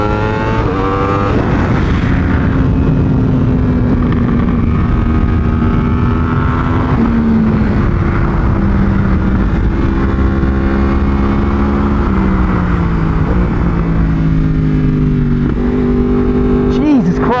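A 2019 Yamaha R1 sport motorcycle on a race track, its engine holding a loud, steady high-rev howl with stepped pitch changes as it shifts and accelerates, close and continuous throughout.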